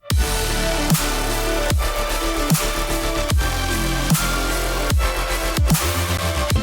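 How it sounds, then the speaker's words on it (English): An overdriven bass synth plays loud, gritty sustained notes with a pulsing rhythm, each phrase ending in a downward pitch sweep, the distortion making the tone dense and cutting. "Put overdrive on."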